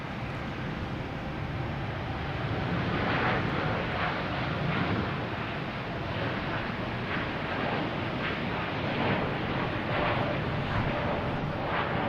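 A Hainan Airlines airliner arrives at Boston Logan on a Friday night, its engines a steady, loud broadband roar with heavy wind noise on the microphone throughout.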